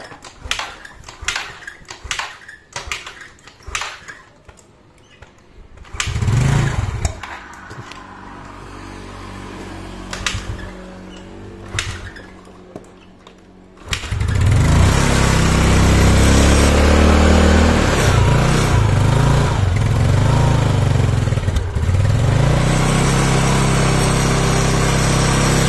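Yamaha Mio motor scooter engine, suffering from lost compression, cranked with several short sputtering attempts before it catches at mid-clip and settles into a loud, steady close-up running roar with revving.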